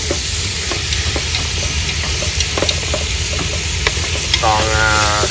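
Meat stir-frying in a pot sizzles and crackles steadily and loudly, with occasional scraping stirs and a hissing steam texture throughout, up close with no talking.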